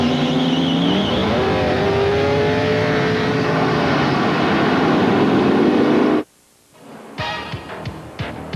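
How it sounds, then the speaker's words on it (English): A 670-horsepower Budweiser Thunderbird NASCAR stock car races at the 1992 Budweiser 500 at Dover Downs. Its engine gives a loud, steady, sweeping roar, then a sudden drop-out followed by quick passing surges. "He's driving the 670 horsepower Budweiser Thunderbird"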